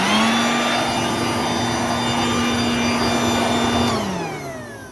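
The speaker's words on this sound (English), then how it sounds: "I think that's a vacuum actually" A vacuum cleaner runs in a car workshop where a bonnet is being sanded, giving a loud, steady whooshing roar with a high whine that winds down as it is switched off near the end.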